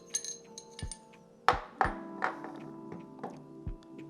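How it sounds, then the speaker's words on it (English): Metal parts of a Ruger Max 9 pistol being separated during a field strip, with several sharp clinks and clicks spread unevenly over a few seconds and a louder knock midway, close by and with no talking. "We'll take out the barrel by pulling up and out."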